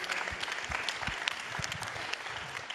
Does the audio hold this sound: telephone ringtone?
no